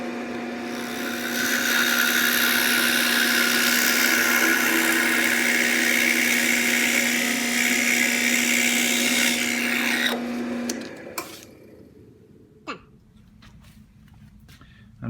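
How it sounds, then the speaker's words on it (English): A drill press grinds steadily through four stacked pieces of wood for about ten seconds with a high whine, then cuts off, leaving quiet clicks and handling noises. "With all of our pieces clamped down to the drill press, we're going to drill through 4 pieces at a time."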